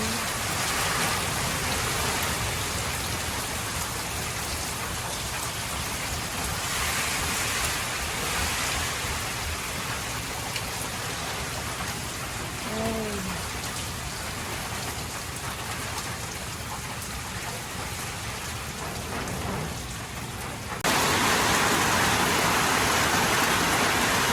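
Steady typhoon rain falls throughout, a dense hiss of drops on a surface, continuous and fairly loud with no voices.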